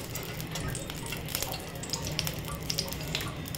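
Whole garam masala spices (bay leaf, star anise, black cardamom, cinnamon, peppercorns and cloves) sizzling in two spoons of melted ghee in a pot, a steady close crackle with small pops scattered throughout.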